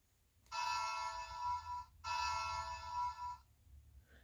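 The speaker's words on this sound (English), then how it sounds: "In a daze, he rang the school bell" A school bell rings in two long sustained electric bursts with a short gap between them, bright and steady, standing alone against a quiet background.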